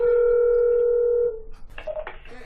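A telephone call to the city hall in Melrose, New Mexico: a steady dial tone holds for over a second, then cuts off into brief dialing tones and line noise.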